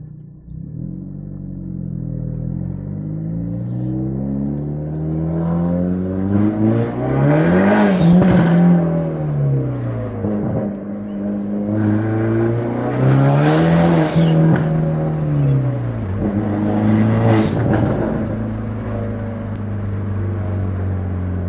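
A car with a new blow-off valve and a loud exhaust on a test drive, its engine droning steadily with repeated revving swells and gear changes, heard close and loud from inside the car.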